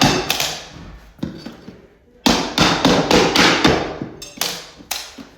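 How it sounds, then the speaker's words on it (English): A mallet striking a pry tool driven under the nails of carpet tack strips stuck to a floor, with sharp, loud, close knocks in an irregular series, some spaced and some in quick bursts. "But if you go under the nails, and you hit it with a hammer,"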